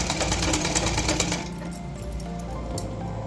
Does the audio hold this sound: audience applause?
no